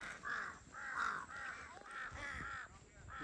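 Crows caw repeatedly while being fed grain at the Bangalachuli view tower in Dang, Nepal, with a run of loud, close, harsh calls following one another in quick succession.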